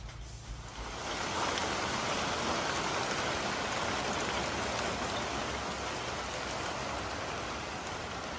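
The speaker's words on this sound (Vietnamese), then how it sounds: "Rồi trời sẽ mưa luôn rồi kìa." Steady rain pours down, a dense, even hiss of drops that starts quietly and swells after the first second, then holds constant and close.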